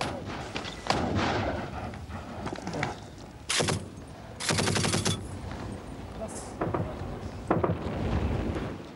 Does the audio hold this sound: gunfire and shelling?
yes